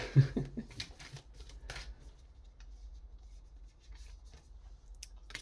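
Tarot cards shuffled by hand at a table crowded with plants, a burst of quick papery riffles and slaps at the start, then softer intermittent rustling and taps close to the microphone.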